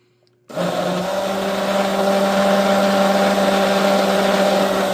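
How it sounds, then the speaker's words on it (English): A kitchen blender switches on after a brief quiet moment and runs loud and steady on a Pecron F3000 portable power station, a constant motor whine with no speech. "Let's press the blender."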